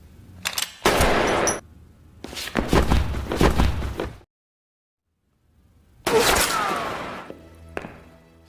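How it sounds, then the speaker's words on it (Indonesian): Bursts of rapid gunfire crackle in heavy volleys during a film shootout, broken by a brief silence before another loud burst of shooting erupts. "Aksi saling tembak pun tak terhindarkan"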